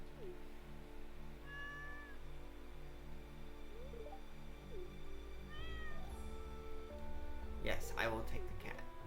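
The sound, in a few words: cat meowing in Stardew Valley video game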